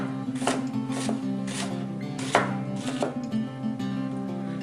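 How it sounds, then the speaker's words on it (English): A knife rocking on a cutting board through onions, giving a series of crisp, close chopping taps in an uneven rhythm, about six clear strikes over a soft background. "end of the blade on the cutting board and just rock back and forth"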